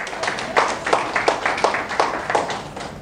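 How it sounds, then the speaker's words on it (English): Audience clapping at an international nursing leadership conference in Africa, a steady patter of many hands with rhythmic surges, fairly close and moderately loud, with no one speaking over it. "Please give me a round of applause."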